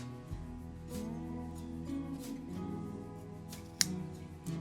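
Scissors snip through paracord strands at close range, a few sharp cuts standing out over a quiet room background.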